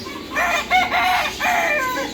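A rooster at a bird shop crows loudly and close, one drawn-out call with a short break, clear over faint background noise.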